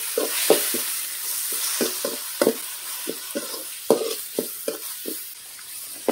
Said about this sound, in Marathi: यामध्ये आपल्याला बारीक चिरलेला टोमॅटो घालायचा आहे, तो सुद्धा आपल्याला व्यवस्थित परतून घ्यायचा आहे